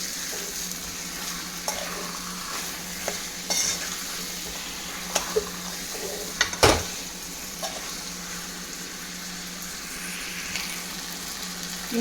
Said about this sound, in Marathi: छान 1-5 मिनिटं परतून द्या।